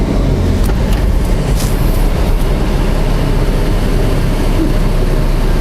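Cars on the Probowangi toll road between Gending and Paiton in light holiday traffic give a steady, close rumble of tyres and engines that never lets up.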